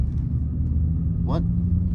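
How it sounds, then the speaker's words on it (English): Manual car shifting into second gear while accelerating, with a low, steady engine rumble heard from inside the cabin and a brief rising chirp partway through. "All right, so let's go to 2nd gear now."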